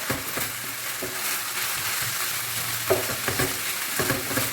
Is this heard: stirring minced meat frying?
yes